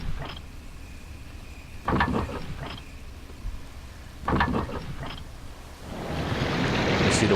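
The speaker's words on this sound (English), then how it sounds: "You see the water is filling back up now." Water rushes in to refill a pool in Resident Evil REmake, a broad hissing surge that builds and grows steadily louder over the last seconds, after a few scattered clanks and thuds.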